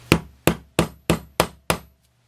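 A hammer taps a quarter-inch wooden dowel into place with six crisp, evenly spaced knocks, each ringing briefly before the next, close to the microphone and followed by quiet.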